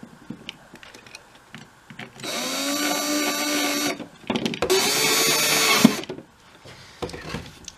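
A power drill drives screws without pilot holes to fit a metal latch onto a wooden cigar box, whirring close up in two sustained bursts with a brief pause between them.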